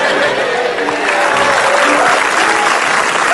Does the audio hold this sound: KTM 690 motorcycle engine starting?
no